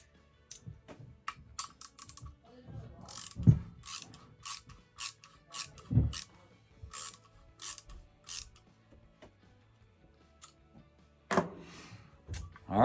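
A torque tool clicks and ratchets while tightening the action screws on a custom .22 rifle, giving scattered bursts of small mechanical clicks and taps separated by quiet gaps, close up with no speech.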